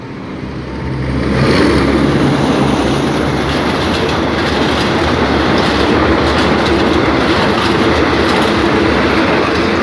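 Passenger train 4212 rushes through the North Park railroad crossing near Don Mueang, a loud, close roar that swells in within the first two seconds and holds steady with rumbling wheels and rattling cars.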